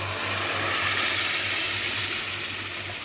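Ridge gourd bajji batter fries in hot oil tempering in a pan, giving a loud, steady sizzling hiss that runs throughout over a faint low hum.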